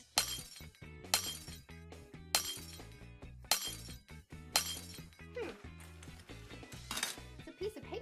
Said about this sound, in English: put on your safety goggles and break the glass